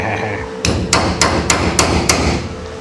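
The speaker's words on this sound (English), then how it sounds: "Hammer." Close, loud hammer blows tacking on a welded part: six sharp metallic strikes at a steady, roughly even pace over a low background hum, with no talking.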